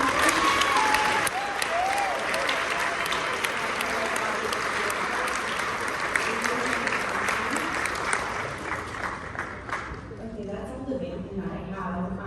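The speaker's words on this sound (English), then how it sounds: "So if we could do a round of applause, because she'll see this video" A school assembly audience gives a sustained round of applause, a dense wash of many hands clapping in a large room that tapers off near the end, with faint voices mixed in.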